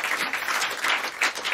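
An audience applauds a guitarist at a small intimate concert with a steady, dense round of clapping from a nearby crowd, holding even throughout with no voices.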